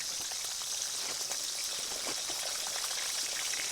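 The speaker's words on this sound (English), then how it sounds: "listen to that sizzle, would you?" Bacon sizzles and crackles steadily in a hot pan at an overlanding campsite, a dense, even hiss with popping spatters and no voices.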